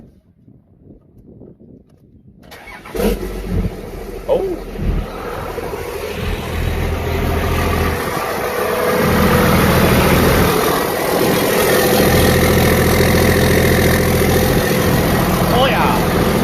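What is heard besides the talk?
2005 Cummins diesel engine cold start and idle without exhaust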